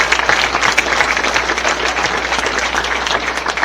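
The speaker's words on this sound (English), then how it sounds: "one more quick round of applause for everybody on that 98" An audience at a baseball hall of fame induction ceremony applauds steadily for a former team, a dense, even patter of many hands with no talk over it.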